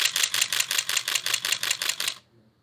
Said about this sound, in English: that is the sound of the shutter.